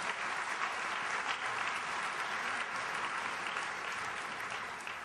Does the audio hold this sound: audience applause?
yes